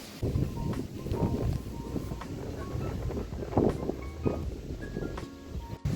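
Steady gusting wind buffets the microphone at a hilltop overlooking a valley in the Italian Lakes region, a continuous rough roar with occasional rustling, no voices.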